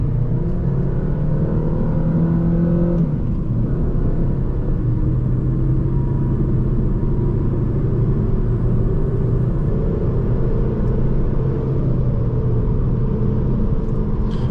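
A 2011 Volvo S40 T5 accelerates hard on the road through a 0-60 run, heard from inside as a loud, steady engine rumble and whir that holds for the whole stretch with no talking.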